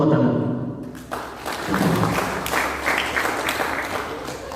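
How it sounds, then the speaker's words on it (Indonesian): Audience applause at an Indonesian regional government event: a steady wash of clapping from a hall crowd, moderately loud and continuous, after a brief voice and thump at the start. "Tepuk tangan."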